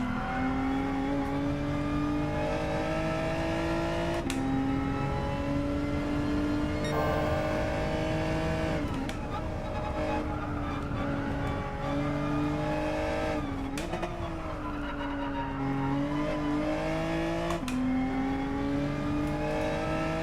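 A race car engine revs high and steady in Gran Turismo 7 at the Nürburgring, pitch climbing and dropping with gear shifts, loud and continuous with no talking.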